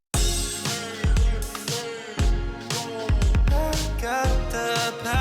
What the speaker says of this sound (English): it's like a feel-good type 80s style pop song